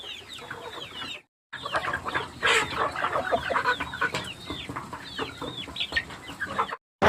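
Country breed chickens cluck in a busy overlapping chorus of sharp, repeated calls at close range, nearly continuous apart from two brief silent gaps, with no talking.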